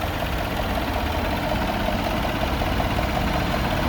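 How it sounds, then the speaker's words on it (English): A 2016 Land Rover LR4 HSE with a supercharged V6 idles steadily, a smooth, even low engine hum heard close and uninterrupted throughout, with no talking. "Engine is idling very smoothly."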